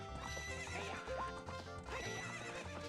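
A horse in the video game Ocarina of Time whinnies over layered game music with clip-clopping hooves, the neigh brief and partly buried in the busy score.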